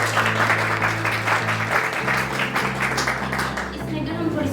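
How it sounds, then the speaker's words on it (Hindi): Audience at a Caritas Pakistan water conference claps loudly and steadily for the organisation, the applause sustained under background music with a low droning tone. "हम कारितास पाकिस्तान के लिए एक दफ़ा ज़ोरदार ताली दें।"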